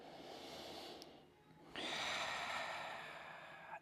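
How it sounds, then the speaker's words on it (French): Deep breathing during a dynamic yoga session, with a quieter inhale followed by a long, full exhale or inhale that swells near the microphone, no talking. "On prend quelques respirations là."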